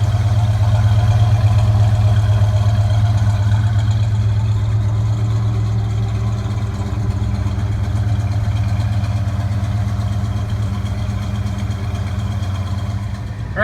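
From behind a 1967 Chevelle SS with a new exhaust system, the idling engine gives a steady, low, throaty drone, close and unbroken for the whole stretch, with no voices.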